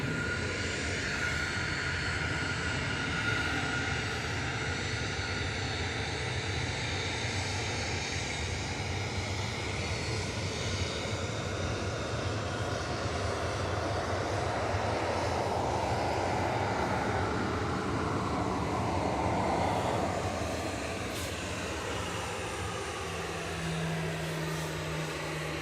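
A Ryanair jet taking off from Manchester Airport bound for Marrakesh, a loud continuous engine roar with shifting tones that sweep as it climbs away, fading slightly toward the end; no voices.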